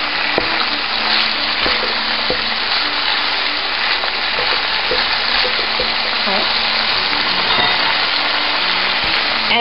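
Sweet peppers and carrots fry in a pan for a spicy cabbage and fish dish, a loud, steady sizzle running throughout with scattered clicks and scrapes from stirring.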